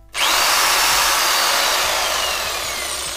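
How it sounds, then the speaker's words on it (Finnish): A Bosch electric saw cuts through a metal bar clamped in a bench vise, a loud, steady high-pitched whine and grinding that starts abruptly and holds for about three seconds, slowly easing in volume. "Ja joka pojaltahan löytyy kotoa tämmönen Boschin sähkösaha."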